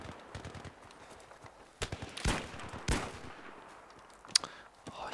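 Sporadic enemy gunfire in the Battlefield 3 video game, several sharp separate shots and short bursts in an irregular rhythm over a low background, with one brief bright crack near the end.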